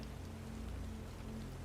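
Steady soft rain falls on a surface on a rainy evening, a continuous faint hiss of raindrops with a low hum underneath and no voices.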